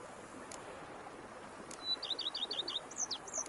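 Birds in The Witcher 3 video game give a quick run of high, repeated chirps over a soft outdoor ambient bed, rising in the middle and then tapering off.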